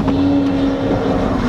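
A Bentley's exhaust drones steadily while following a Lamborghini Aventador, a loud, continuous engine note with a constant low hum, heard from close by.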